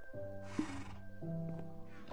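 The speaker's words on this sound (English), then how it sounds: "Get off my stupid horse, Molin." A horse in the Minecraft video game gives a short, tonal whinny with a snort, fairly quiet and heard on its own in the game audio.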